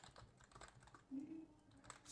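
Faint, close keystrokes on a computer keyboard, a quick run of light taps with a slightly heavier press near the middle, as an Enter and Backspace are struck during coding.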